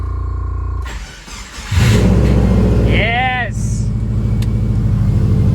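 An STI-swapped Subaru Forester fitted with a 44mm Tial external wastegate cranks over and fires up, then settles into a loud, rough idle with light revving, up close, while a person briefly speaks.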